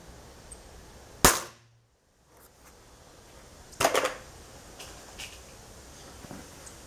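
A sharp shot from a CBC Montenegro Standart F18 4.5 mm air rifle cracks once, followed by a quieter impact or pellet strike a few seconds later against a faint background.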